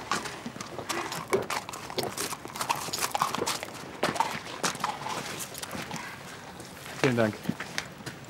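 Horse hooves clip-clop at a steady walking pace while a person speaks briefly over them.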